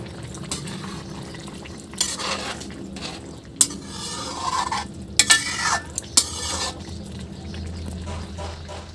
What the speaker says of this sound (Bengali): তো চলো সবজিটা কষা